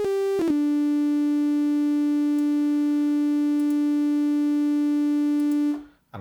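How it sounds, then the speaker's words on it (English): A steady, pure sine tone from a Roland Zenology synthesizer partial, with a brief pitch shift at the start, then held evenly and loudly before cutting off abruptly. "you're hearing the sine wave that ordinarily would be partial 1"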